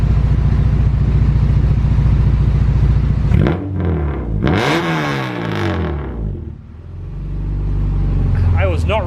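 An Acura Integra Type R engine revs hard through a loud aftermarket exhaust in a tuning shop, a steady idle rumble swelling into two sharp, close rev sweeps before settling back, with a voice at the end.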